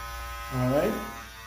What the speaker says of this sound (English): Notice I'm holding my clippers with two hands to make sure I keep everything nice and steady